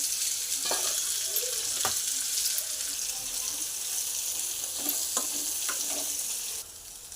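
Chickpeas fry with curry leaves in a pan for a crispy chana snack, giving a steady, close sizzle with a few soft stirring scrapes and clinks and no talking.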